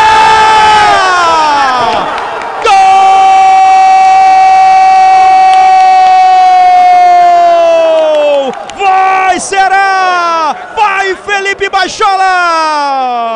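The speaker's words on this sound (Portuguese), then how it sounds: "É festa da torcida do Vozão!" Ceará (Vozão) football fans in a packed stadium make a loud, continuous roar, with long droning horn-like tones that hold steady and then break into shorter rising and falling blasts.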